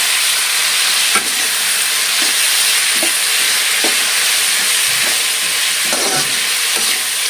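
Onions frying in a pan give off a loud, constant sizzle and hiss, with soft scraping taps from stirring scattered throughout.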